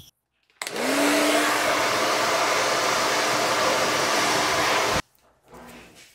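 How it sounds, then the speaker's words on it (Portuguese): A Britânia soft rotating brush dryer blows hair with a loud, steady whooshing roar and a faint whine after it switches on abruptly. It runs close and unbroken for about four seconds, then cuts off, leaving quiet room noise. "Mas aqui eu uso essa aqui da Britânia, escova secadora soft."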